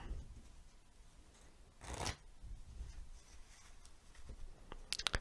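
A quiet room with one quick riffle of playing cards being shuffled, followed by soft taps and light clicks of cards settling.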